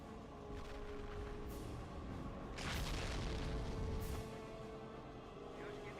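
Distant mortar rounds thudding in a strategy video game, low muffled booms rolling under a continuous rumble of battle, one heavier blast near the middle, fairly faint overall.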